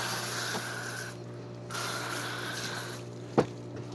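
Tap water runs while a whole chicken is rinsed during butchery, a close, steady splashing stream that stops and starts in short bursts, with a brief knock near the end.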